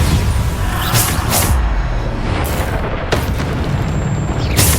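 A Bombarda spell explodes repeatedly during combat in the video game Hogwarts Legacy, giving several booming blasts with whooshes over a dense, continuous game soundtrack.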